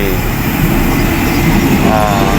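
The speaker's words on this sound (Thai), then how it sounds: "ขบวน 424 มาแล้วนะครับ กำลังเทียบทางชลาที่1นะครับของสถานีบ้านน้องตาด" Train number 424 pulls in alongside platform 1 at Ban Nong Tat station in Thailand, a loud, steady rumble of rolling wagons and wheels filling the whole stretch with no break.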